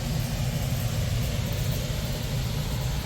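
An air conditioner runs at a classic car lot, a dense steady low hum and broadband hiss, loud and unbroken throughout with no voices.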